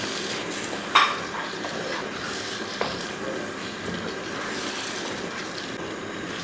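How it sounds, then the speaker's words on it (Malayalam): Chicken sausage gets stirred into gravy in a pan, with a sharp clink of utensil on metal early on and a second light tap later, followed by soft scraping and bubbling, all fairly quiet and without speech. "ഈ ചിക്കൻ സോസേജ് ഈ ഗ്രേവിക്കകത്തോട്ട് ഇട്ട് കൊടുക്കും ഇതൊന്ന് ഇളക്കി"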